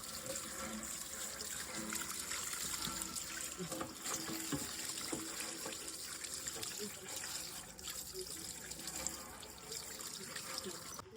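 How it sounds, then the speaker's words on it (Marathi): Freshly cut fish being rinsed under a running kitchen tap for a village-style fish curry, with a steady close splashing and trickling of water filling a sink throughout. "मच्छी आता कटिंग करून घेतली, मस्त धुवून घेतो."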